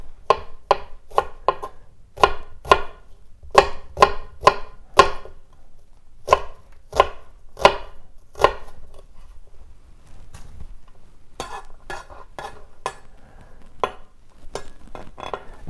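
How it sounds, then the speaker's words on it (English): A knife slices through an onion on a cutting board in a quick, steady run of crisp close knocks, then pauses briefly before softer, more scattered cuts resume. "continue slicing, working your way towards that root"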